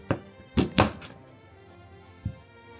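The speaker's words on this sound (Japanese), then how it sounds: "トウモロコシは3等分に切ります。" A kitchen knife chops a corn cob into thirds on a cutting board, giving a few dull, close thunks, two quick ones together, then a single later knock, with no talk.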